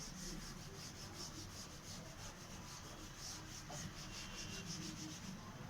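Writing being rubbed off a classroom board during a triangles lesson, a continuous soft scrubbing with a quick back-and-forth rhythm, close and steady throughout, with no talk.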